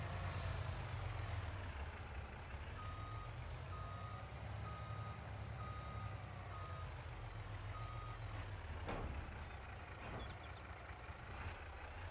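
A lorry in a farming video game reverses with a regular, evenly spaced series of beeps over a loud, steady diesel engine drone, with a hiss of air brakes near the start.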